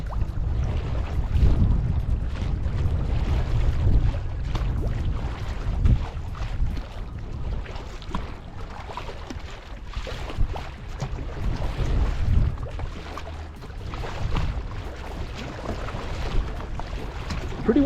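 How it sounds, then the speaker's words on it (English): Strong gusty wind in western Wyoming buffets the microphone continuously, a low rumbling roar with no talking. "Pretty windy today"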